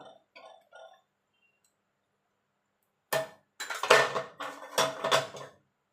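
Metal utensils scrape and clink against a pot while vegetarian ghugni is stirred, with a few soft taps first, then a pause, then a stretch of repeated louder clanks and scrapes close by.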